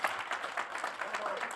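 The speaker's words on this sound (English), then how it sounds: "one last round of applause" A conference audience in Paris gives a closing round of applause, quick irregular claps from a modest crowd at moderate distance, with voices mixed in.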